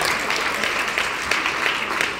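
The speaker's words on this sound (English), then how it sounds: "Give them a round of applause." Audience applause at a high school band concert, brief, steady clapping from a seated crowd, evenly sustained with no talk over it.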